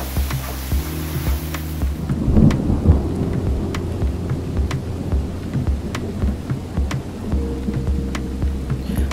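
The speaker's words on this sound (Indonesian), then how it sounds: "Hujan yang menenangkan jiwa" Steady rain falls close by while thunder rumbles low through the whole stretch, swelling into a louder roll partway through, with no one speaking.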